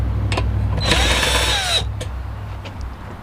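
A power drill backs a screw out of a wooden door, a single whirring burst of about a second that rises and falls in pitch, close and loud, with a few clicks and handling noises before and after.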